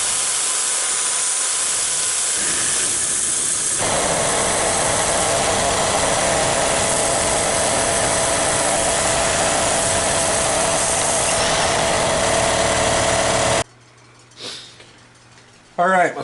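Steady loud machining hum and hiss as a cutter cleans up the face of a metal workpiece clamped in a vise, running continuously before cutting off abruptly near the end, with a voice speaking over it.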